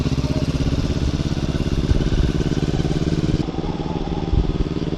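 Loud, steady drone of a Vespa scooter engine while riding in Batangas, with rumbling pulses and rattle, a brief dip in pitch past the midpoint, then a steady hum again.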